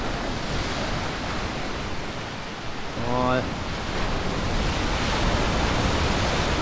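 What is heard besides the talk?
waves crashing against rocks at Dancing Ledge, Dorset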